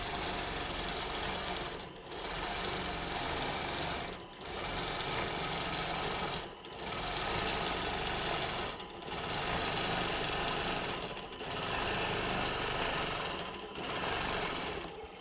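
A sewing machine runs steadily while free motion quilting an orange peel motif, its fast mechanical hum broken by short pauses roughly every two seconds as the stitching stops and restarts.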